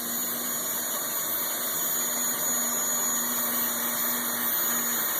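A red Porsche 928 fitted with a jet engine idling, a loud sustained whine with steady high-pitched tones over a constant rushing drone, unchanging and close, no voices.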